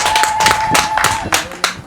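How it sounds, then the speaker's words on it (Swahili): Audience applause at a village gathering of pastoralist women in Meserani Juu, a crowd clapping steadily with bursts of louder claps through the whole stretch. "Pigeni makofi tafadhali."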